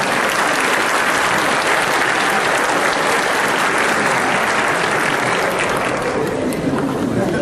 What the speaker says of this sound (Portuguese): Vamos dar uma salva de palmas para essa turma do Brasil?